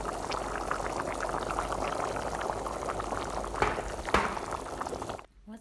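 Meat broth with added water simmering in a pot on a stovetop, bubbling steadily at close range for several seconds before cutting off abruptly near the end.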